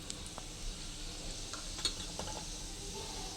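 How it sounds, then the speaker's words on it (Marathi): Mustard seeds crackle in hot oil, faint scattered pops over a quiet steady hiss from the pan. "त्यासाठी मी तेल तापत ठेवले आणि त्यात मोहरी टाकली आहे"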